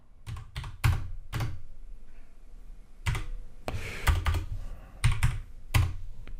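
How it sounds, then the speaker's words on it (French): Rapid bursts of keystrokes on a computer keyboard as dimensions are typed into a spreadsheet, clustered clicks with short pauses, close and clear with no one talking. "Ici, je tape des dimensions."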